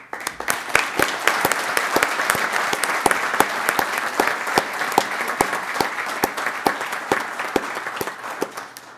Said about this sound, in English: we're happy to give them a round of applause